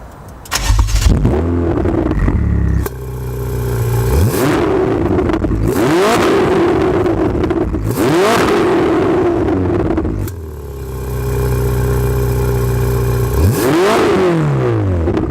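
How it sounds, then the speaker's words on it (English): A Ferrari 488 GTB engine revs hard in repeated loud bursts, rising and falling sweeps with brief lulls between them, close and dominant with no speech. "Obviously the biggest thing with the Ferrari has got to be the engine sound."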